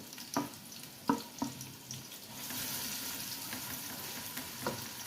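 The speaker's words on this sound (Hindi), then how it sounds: "प्याज को अच्छे से ब्राउन करना है, हाफ ब्राउन नहीं करना।" Two medium onions frying in about four spoons of oil for a green chicken curry: a soft, continuous sizzle with a few stirring clicks and scrapes, quiet and close, with no talking.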